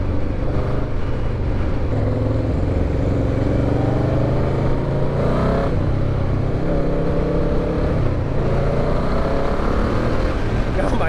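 A restored Yamaha Vmax muscle bike revs steadily while being ridden, its engine drone holding a loud, even pitch with rising and falling rev sweeps and wind rush throughout.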